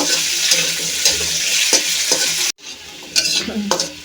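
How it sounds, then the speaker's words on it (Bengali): Potatoes and carrots fry together in oil for a vegetarian cauliflower dish, giving a steady close sizzle with scraping stir strokes. A brief drop to near quiet comes midway before the frying and stirring resume. "গাজর আলু একসাথে একটু ভেজে নেব"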